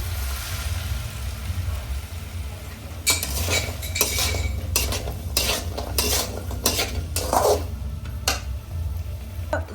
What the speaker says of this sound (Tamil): வினிகர் ஊற்றிட்டு நல்லா மிக்ஸ் பண்ணி கொடுத்துட்டு